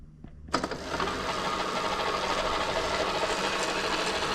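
A Bafang BBSHD mid-drive motor on an e-bike spins up under throttle with a click and a sudden start, then holds a steady, close whirring drone with a faint gear whine.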